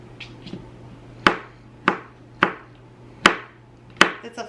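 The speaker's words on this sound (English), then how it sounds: "I need to cut some spinach and some olives up" A fillet knife chops spinach and olives in five sharp, close, evenly spaced strikes, each ringing briefly, with a faint steady hum underneath and no talking.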